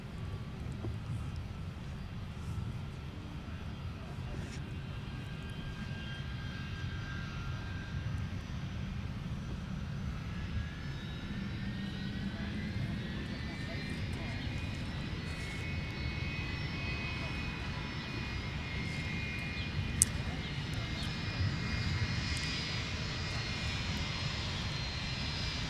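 A Boeing 757 jet roars steadily at MSP airport, its engine whine rising in pitch midway while the broad rumble holds from start to finish.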